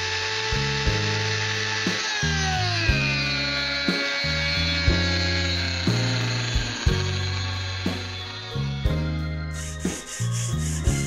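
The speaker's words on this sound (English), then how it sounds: "I'm using my extra fancy Dremel tool router" A Dremel rotary tool in a router table attachment whines at high pitch as it cuts into an offcut of wood, with repeated short passes whose tone dips and recovers under load.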